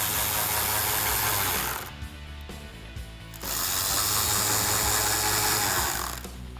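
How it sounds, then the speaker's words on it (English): A 7mm socket ratchet turning the two headlight surround screws in the wheel well of a 2015-2017 Ford F150, with a long, fast, continuous clicking that drops off briefly midway and then resumes, up close with no voices. "use my 7mm socket once again to install the 2 screws that hold the headlight surround in the wheel well"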